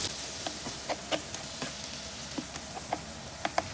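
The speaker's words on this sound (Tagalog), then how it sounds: "After ng ilang minutong pagigisa ay sinunod ko naman itong kamatis." Onion, garlic and tomato saute in a pan with a soft, steady sizzle punctuated by scattered small pops and ticks, fairly quiet and close, with no voices.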